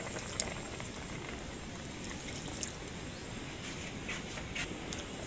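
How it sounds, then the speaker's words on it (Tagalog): Fish simmers gently in coconut milk sauce, a quiet, steady bubbling with small scattered pops and faint trickling throughout. "Pakuluan po natin ng ilang minuto."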